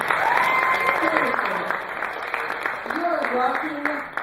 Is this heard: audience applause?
yes